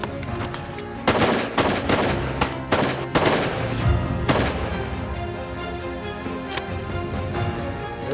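A rapid series of loud shotgun blasts at a waterfowl hunt, several shots fired in quick succession, then scattered single shots with short gaps between them.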